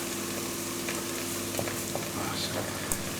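Thyme and rosemary fry with lamb in a hot pan, a steady dense sizzle with a few faint stirring clicks and scrapes throughout.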